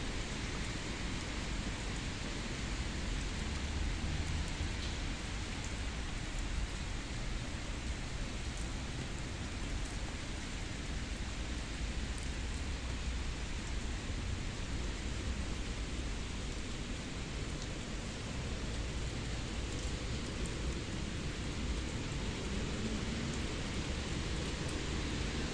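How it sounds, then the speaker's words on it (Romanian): Light rain falls steadily in the Romanian town of Târgoviște, making a continuous, even hiss of drops that stays uniform throughout with no talking. "Plouă încet, a plouat mai devreme mai tare, dar e bună și ploaia."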